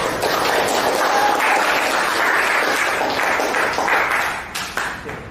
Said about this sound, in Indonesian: Mari kita tepuk tangan bersama.